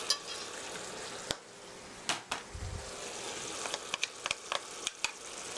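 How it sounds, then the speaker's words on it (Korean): Braised tofu with a little sesame oil sizzles softly in a pan as an upturned spatula gently stirs it, producing sparse light clicks and scrapes over a quiet, low frying hiss. "주걱을 거꾸로 하시고 살살 저어주세요"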